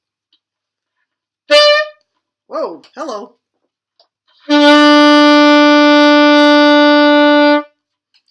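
A short squeaky saxophone blurt from an extra key pressed, then a brief spoken exclamation, followed by a long, steady, clear saxophone B held for about three seconds.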